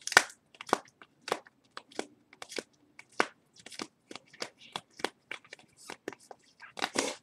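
Trading cards being shuffled during a live case break of 2016 Prime Signatures football boxes, a quick series of sharp riffling bursts at an uneven rhythm, close and fairly quiet with no talk.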